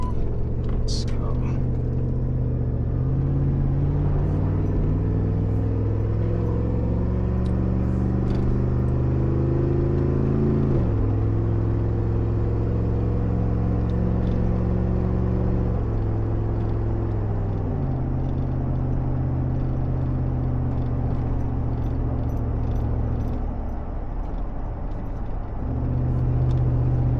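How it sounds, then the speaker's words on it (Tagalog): Loud exhaust muffler of a car driving at highway speed, a steady deep droning rumble whose pitch steps up and down as gears shift, heard close throughout with road noise. "Ang ingay lang ng tambot yun ng sasakyan na to."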